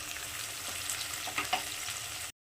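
Spice paste of ginger, garlic, coconut, fennel, green and dried chillies and garam masala frying for Chatina chicken: a continuous, fairly quiet hiss with a few faint stirring ticks, cut off abruptly at the end.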